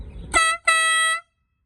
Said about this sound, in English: So we have it hooked up to the horn, so he's gonna go honk that.